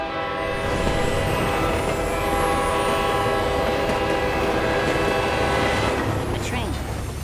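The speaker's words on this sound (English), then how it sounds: "A train in the football field." A cartoon train rushes across a football field, giving a loud, continuous rumble with sustained horn-like tones that swell and fade, close and steady throughout.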